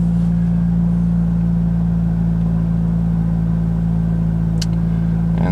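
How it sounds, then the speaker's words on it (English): A 2006 Toyota Corolla engine runs loud with its muffler snapped off, giving a steady, close, deep exhaust drone that holds constant throughout with no talk over it. "you can probably hear it's a little loud. The muffler decided to snap off last night"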